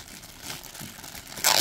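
Crinkly plastic bag rustling throughout as a packaged figure is unwrapped, soft and close, swelling into a louder burst of crackling near the end.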